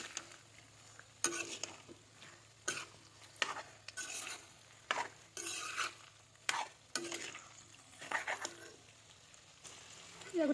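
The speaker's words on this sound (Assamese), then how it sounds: "এতিয়া মই দি দিম এয়া মূলা আৰু গাজৰখিনি।" A spoon stirs radish and carrot pieces frying in oil in a pan over a high gas flame for pickle, giving repeated scraping strokes in an irregular rhythm over a low sizzle, close by.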